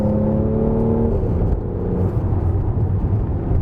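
A loud, steady Mercedes C43 AMG engine drone from inside, driving fast downhill from Genting, with a faint rising whine fading early and constant road rumble throughout.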